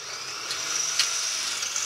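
A high-pitched motor whine runs steadily, with a few sharper surges as the bit bites, like a power drill boring holes into a car's metal inner fender area.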